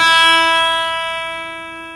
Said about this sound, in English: I'm going to give you a special note here on the fabulous Ibanez PGM 700 guitar